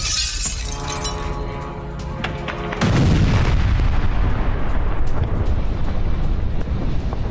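Air defense fire during a drone attack over Kazan, Russia: a hollow rumbling stretch gives way to a loud, sustained roar of blasts and crackling that fills the rest of the clip.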